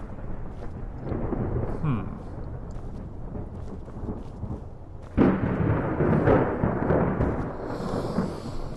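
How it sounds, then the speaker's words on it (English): Thunderstorm in the Skyrim video game: a steady wash of rain and rumbling runs throughout, with a loud thunder crack breaking in around the middle and rolling on afterward, no talking over it. "I don't like the sound of that storm."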